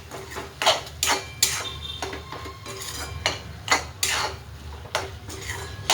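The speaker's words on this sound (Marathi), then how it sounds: "मसाले टाकून घेतले, आता एकजीव करूया" A utensil scrapes and knocks against a cooking pan as turmeric and homemade black masala are stirred together, giving a series of sharp metallic clinks about every half second over a faint sizzle, close by and without talk.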